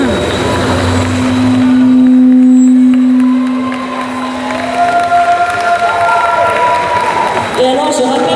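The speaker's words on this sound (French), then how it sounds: "Vous pouvez vraiment les applaudir" Audience at the Summer Geek Festival 2024 cosplay contest applauding and cheering the participants, a sustained crowd roar with a loud steady tone running through it, fading briefly before clapping resumes.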